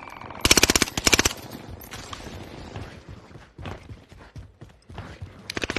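Video game gunfire comes in two sharp rapid bursts close together near the start, followed by scattered fainter shots and mechanical clicks, with no voices.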